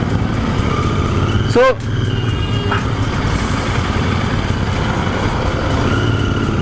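A Royal Enfield Continental GT 650 cafe racer's oil-cooled 650cc engine runs steadily close by, a continuous rumble that carries on under someone talking and a brief burst of other traffic noise.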